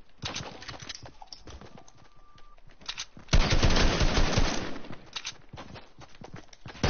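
Bursts of rapid gunfire in Fortnite crackle in short clustered volleys, building to a loud sustained barrage in the middle before tapering into scattered shots.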